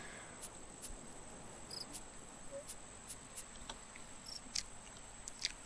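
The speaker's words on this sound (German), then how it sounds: "Das Grillengezirpe könnte jetzt gar nicht besser passen." Crickets chirp in the survival video game Raft: quiet, steady, sharp clicks repeat irregularly over a soft hiss of background ambience, sounding distant and faint, with no voices.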